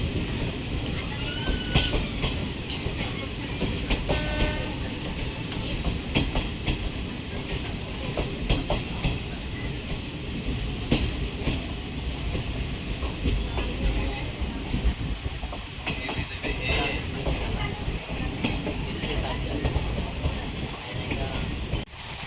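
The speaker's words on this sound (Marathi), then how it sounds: "सिंधुदुर्ग आला आमचं, पण आता इथे ना ट्रेन थांबणार नाही, स्टॉप नाही, स्लो झाली आहे." A passenger train rolling slowly past Sindhudurg station in Konkan, with steady close rumble and rhythmic wheel clatter on the rails, faint squeals and occasional voices in the background.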